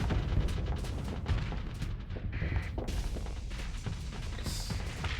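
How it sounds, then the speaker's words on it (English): Thunder Interceptor ion cannons firing in an aerial combat video game, a quiet, steady stream of distant gunfire-like pops and booms layered under engine rumble. "the Thunder Interceptors have ion cannons"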